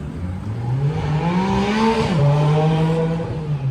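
A Porsche GT4 revs loudly as it pulls away from a BMW car show, its engine note climbing steadily, dipping sharply at a shift, then holding a strong, close drone to the end.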